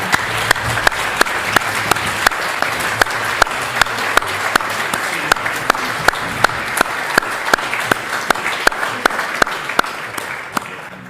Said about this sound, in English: please stand and applaud the winners for the last time